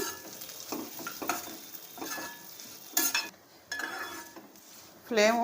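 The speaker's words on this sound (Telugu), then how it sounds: "మీడియం ఫ్లేమ్లో పెట్టుకొని వేపుకుందామండి" Semiya vermicelli fries in ghee in a pan over a medium flame, a soft sizzle under repeated scraping and clinks of a stirring spoon, close by, with no talking.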